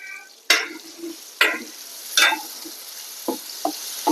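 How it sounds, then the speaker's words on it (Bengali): Dried red chillies hit hot oil for a dal tempering, with a sharp sizzle burst and a few more hissing flares, then several shorter crackles and pops over a steady background frying hiss. "এই যে তেল দিয়ে দিলাম, ডাইলে ফোড়ন দিব। এই যে শুকনো মরিচ দিলাম।"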